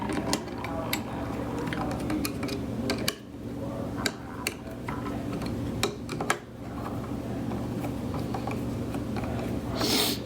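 Small screws are driven down to fasten a screen onto the lid of a Vent-Tech SWG-B, giving close, irregular mechanical ticks and clicks over a steady low hum.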